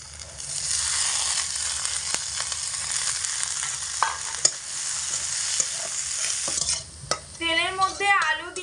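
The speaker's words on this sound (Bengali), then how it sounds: "তেলের মধ্যে আলু দিয়ে মোটামুটি 3 মিনিট মতো খুব ভালো করে ভেজে নিয়েছি" Diced potatoes fry in oil with a steady close sizzle, broken by a few sharp clicks from the pan, and a brief rattling scrape near the end.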